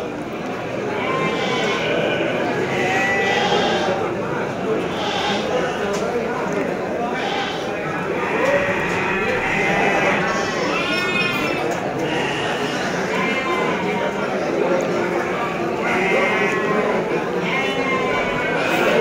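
Garut sheep bleat repeatedly amid a busy livestock market at Tanjungsari, their calls rising over steady crowd chatter and the clatter of the animal pens; people talk throughout.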